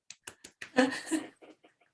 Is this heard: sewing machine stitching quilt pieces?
no